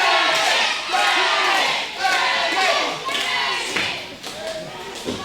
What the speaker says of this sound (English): Crowd chanting Dragon.